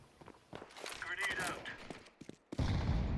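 Gunfire in the video game Counter-Strike during a 5v5 match, a few quick bursts of shots at moderate distance followed by a loud, dense stretch of fire at the end, with a voice talking in the middle.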